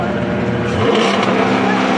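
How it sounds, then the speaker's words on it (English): A car engine revs hard with the brake held, producing a loud, continuous roar close by that swells slightly partway through. "Now press the gas and rev it."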